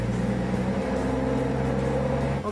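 A Jeep engine running on a dyno, a loud, steady, close droning roar with low rumble and a slight tail-off at the end, no voices.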